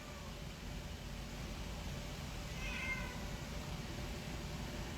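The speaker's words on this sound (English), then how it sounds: "Look at this chunk of a cat." A cat at an animal adoption centre gives one faint meow midway through, heard over a steady low background hiss with no other clear sounds.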